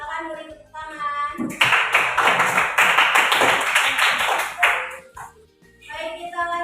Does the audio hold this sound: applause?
yes